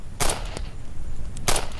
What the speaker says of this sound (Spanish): luego el eco de varios disparos